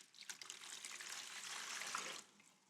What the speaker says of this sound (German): Wir starten, indem wir pro Kilogramm Glasurpulver ca. 800 Milliliter Wasser in den Behälter gießen